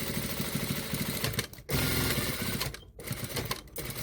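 Domestic sewing machine running in steady bursts as it stitches the ribbed cuff onto a jumper sleeve, a fairly loud continuous whir broken by two brief pauses, with no talking.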